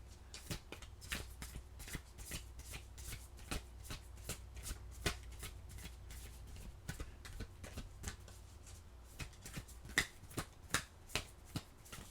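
Oracle cards are shuffled steadily for the whole stretch, a fast run of crisp riffling snaps repeating close up with no talking over them.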